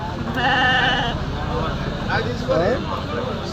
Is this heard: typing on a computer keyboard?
no